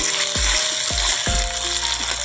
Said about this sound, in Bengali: তেলটা গরম হওয়ার পর পেঁয়াজ আর টামাটুর ফোড়নে লঙ্কা দিচ্ছি